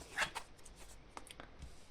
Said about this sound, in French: Tirer une autre carte